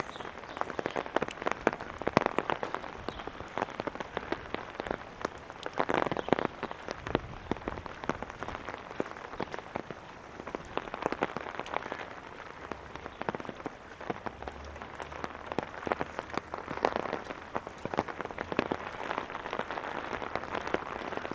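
Steady rain falls around someone walking outdoors in Regina, a continuous soft patter with scattered sharper drops and faint footsteps, no talking.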